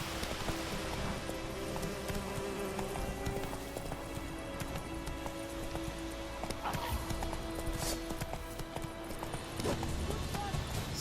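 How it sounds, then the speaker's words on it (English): Roach the horse trots in The Witcher 3, a steady clip-clop of hooves running continuously under dense game music and ambience, with a voice talking faintly over it. "Ah già, che questo è un cavallo fighetto"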